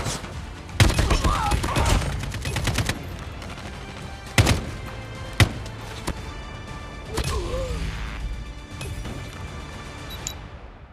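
Bursts of AK-47 automatic fire in Call of Duty Mobile, rapid rattling volleys with sharp single shots and clanks between, loud and close, with faint game voice.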